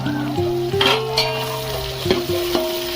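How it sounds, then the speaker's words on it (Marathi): Mixed vegetables stir-fried in hot oil with garam masala, steady sizzling with repeated spoon scrapes and stirring knocks against the pan, close by and fairly loud, no talking. "हे बघा तेलामध्ये गरम मसाल्याबरोबर पूर्ण भाज्या परतून घेत आहे."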